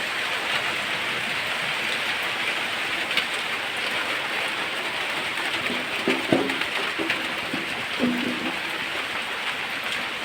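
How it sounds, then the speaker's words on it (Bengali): Heavy rain falls steadily in a rural village, a dense, even hiss of drops on surfaces with no voices, and faint bird calls surface briefly in the background. "বৃষ্টি ভালোই বৃষ্টি পড়তেছে"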